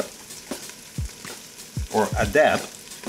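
Kimchi and rice stir-fry in a pan. A faint sizzle sits under intermittent scraping and stirring sounds that come in short bursts and grow busier toward the end.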